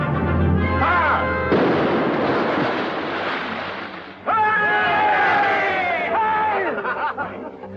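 Ship's cannon fire from a sailing warship with a broadband blast and rumbling decay, while voices and shouting carry over the din and tonal cries rise near the end.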